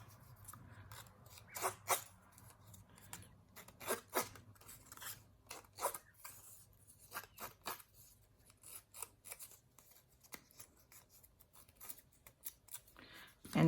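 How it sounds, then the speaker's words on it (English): Old scissors scrape and rough up the edges of paper cardstock in a string of quick, close rasping strokes, irregular and faint, with short pauses and a soft low hum underneath. "Get your scissors and just rough up those edges."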